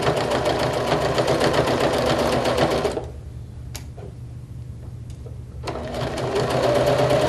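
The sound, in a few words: sewing machine stitching fabric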